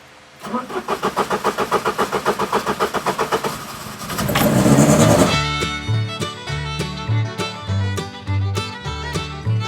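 A car engine cranks with a rapid rhythmic churn, catches with a rising roar, then settles into a steady idle, close by.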